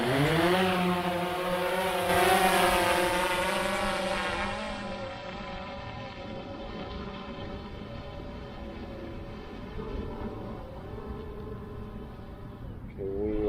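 A DJI Phantom 4 Pro V2.0 drone lifts off, its rotors producing a steady, loud buzzing whine with harmonic tones that rise in pitch at first and then settle into a continuous hover drone.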